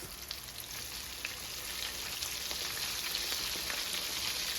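Chicken livers frying in canola oil give a steady, dense sizzle with faint crackling pops, moderately close and running throughout with no talking.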